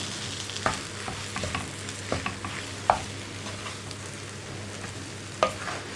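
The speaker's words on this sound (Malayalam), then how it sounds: "ഇനി നമുക്ക് ബാക്കിയുള്ള കപ്പയും കൂടി ചേർക്കാം. നമുക്കിതും മിക്സ് ചെയ്ത് യോജിപ്പിച്ചെടുക്കാം." A spoon stirs and mixes a cassava cutlet mixture in a pan. Soft scraping and irregular taps sit over a steady low hiss, with no talking.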